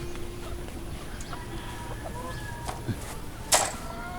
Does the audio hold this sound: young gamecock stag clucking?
yes